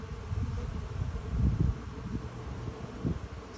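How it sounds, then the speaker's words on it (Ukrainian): A low, steady buzz of many honeybees flying at a hive entrance fitted with pollen traps, swelling briefly in the middle, with a soft continuous hum throughout. "Бджолки прилітають"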